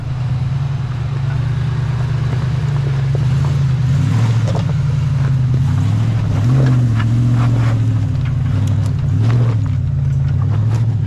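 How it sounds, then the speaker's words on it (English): Deep, continuous V8 engine rumble with rising and falling revs, loud and close, over rough background noise. "Love the sound of that V8."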